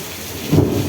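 A monsoon thunderstorm over Vejalka village in Ranpur taluka, Botad district, brings a steady hiss of heavy rain, then a deep rumble of thunder that swells loudly in the second half of a very short moment.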